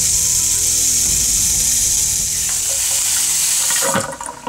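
Water rushing steadily through newly finished plumbing in a trailer, a loud, continuous hiss with a sharper splash near the end.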